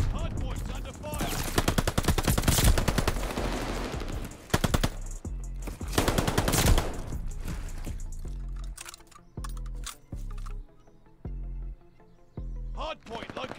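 Rapid automatic gunfire from an MP40 in the shooter game Call of Duty Vanguard, played in ranked Hardpoint mode, rattles in dense loud bursts and then thins into shorter shots, with a voice talking over parts of it.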